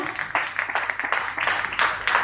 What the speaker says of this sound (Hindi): एक बार जबरदस्त तालियां सीटों पे से उठकर